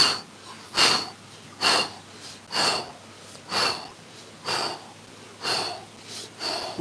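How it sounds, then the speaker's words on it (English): Forceful exhales during an exercise, about eight breathy bursts at an even rhythm roughly a second apart, close and clear with no talking. "A few forceful exhales as we slowly go back up."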